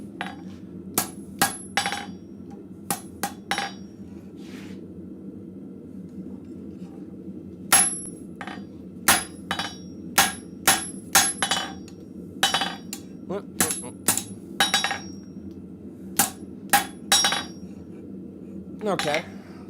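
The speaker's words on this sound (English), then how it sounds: "Do a little bit of plenishing." Light hammer blows ring out as a blacksmith planishes steel to smooth away small hammer marks. The strikes are bright and clinking, with sparse hits at first that grow quicker and denser over a constant shop hum.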